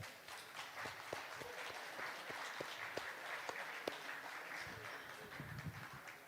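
A live audience applauds a jazz band at a tribute concert, with dense, fairly quiet clapping that holds steady throughout and a few sharper individual claps standing out.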